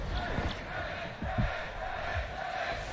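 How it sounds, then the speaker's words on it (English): Crowd cheering and shouting at a Valorant Champions knockout match between Evil Geniuses and EDward Gaming on Ascent, a steady roar of many voices with louder swells, heard alongside excited commentary. "The crowd are calling, he's got 5 HP!"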